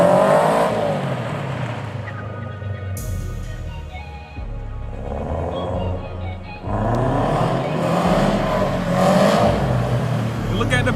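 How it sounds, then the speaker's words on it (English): A Ford Mustang GT doing a basic donut while street drifting, its engine revving hard and rising in waves with tire noise, steady and loud throughout, with voices talking at times. "tried to show him how it was pretty much done, how to just do a basic donut"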